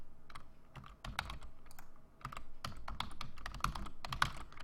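Fingers tap a computer keyboard in uneven bursts of crisp key clicks, close by, with short pauses between runs of typing while code is being debugged.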